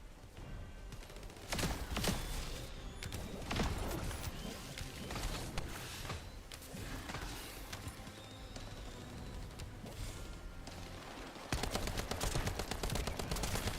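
Rapid gunfire from a shooter game, The First Descendant, fired at bomber enemies in bursts of sharp cracks over a busy mix of in-game effects, loud and continuous throughout with denser volleys near the end.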